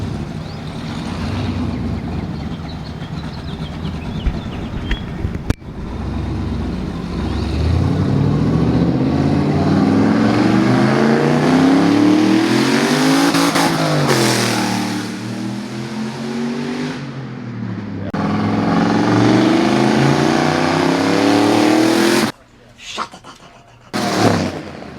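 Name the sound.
turbocharged truck driving down the street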